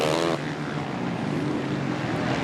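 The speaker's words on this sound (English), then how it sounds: "You just hear dumping the clutch, huge revs out of that bike." A 450 motocross bike at a Washougal motocross race, its engine revving hard as the rider dumps the clutch, giving a steady, loud, buzzing roar with no voices over it.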